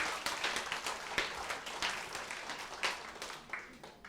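An audience at a talk gives fairly faint, dense applause, with many hands clapping steadily for about four seconds.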